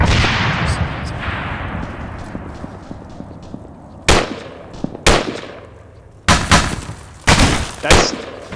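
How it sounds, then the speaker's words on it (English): Heavy gunfire and artillery in ArmA 3: a long fading rumble of distant fire, then a run of sharp loud booming shots spaced about a second apart, each with a trailing echo. "That's heavy fire at us."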